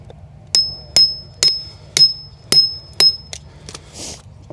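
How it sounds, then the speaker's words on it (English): A wood chisel struck with a mallet, turned bevel-down to clear material from inside a cut while sparing the outer veneer: six or seven sharp, evenly spaced close knocks, each with a faint metallic ring, over a low background hum. "turn your chisel upside down, leave the outside edge alone, just come inside and get rid of that material that's in there"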